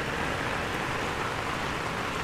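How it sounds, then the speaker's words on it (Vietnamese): Steady rain pours down near Silver Waterfall in Sapa during the stormy season, a dense, even hiss of falling water that fills the moment without any voices. "trời mưa quá"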